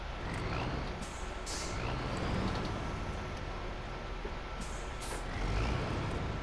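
A truck in the snowy off-road game SnowRunner backs up, its reversing beeps and air-brake hisses heard over a steady engine rumble, with two bright bursts near the start and end.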